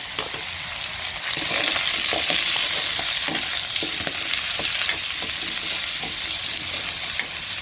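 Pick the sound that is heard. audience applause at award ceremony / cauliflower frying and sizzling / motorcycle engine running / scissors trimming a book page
cauliflower frying and sizzling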